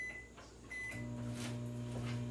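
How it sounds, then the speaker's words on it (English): A kitchen microwave oven melting butter gives a couple of short keypad beeps, then its motor starts a steady low hum that continues at close range. "I have the butter in the microwave already. Let's melt it."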